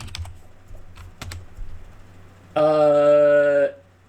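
Typing on a computer keyboard: a few sparse, quiet key clicks, followed by a steady electronic tone lasting about a second.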